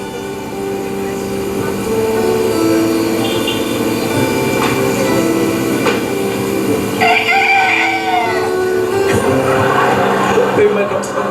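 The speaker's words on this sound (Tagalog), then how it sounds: "Tumitilaok yung manok kasi kulang yung balahibo niya" A rooster crows inside a mansion, partly buried under steady talking and background noise, with a rising call standing out about two-thirds of the way through.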